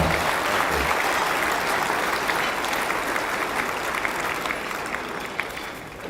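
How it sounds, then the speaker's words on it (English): An audience at a Cheers For Veterans event applauds Father John with dense, continuous clapping from a sizable crowd that tapers slightly near the end. "Put your hands together for Father John"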